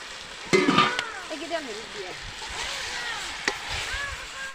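Pieces of broiler chicken and potato fry in a pan, giving a soft, quiet sizzle with a few scraping stirs and clatters near the start.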